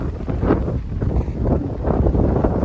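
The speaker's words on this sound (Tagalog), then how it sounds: "Lakas ng hangin." Strong wind buffeting the microphone in continuous low rumbling gusts, loud and close, with no voices.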